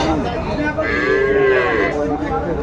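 A cow with her calf at a cattle market in Aftabganj gives one long, loud, close moo that rises and falls, over a background of market murmur.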